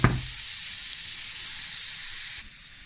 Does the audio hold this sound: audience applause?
no